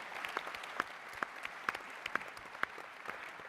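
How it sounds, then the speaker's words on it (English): Applause from a conference audience at a SOLIDWORKS World general session, quiet and somewhat distant, with a few sharper claps rising above a steady patter of hands. "give them a round of applause"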